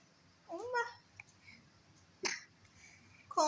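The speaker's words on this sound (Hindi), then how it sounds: "इसको भी खांसी हो गई" A baby's short, sharp cough rings out once at close range, with soft babbling or vocal sounds before it and another brief burst at the end, in a quiet home.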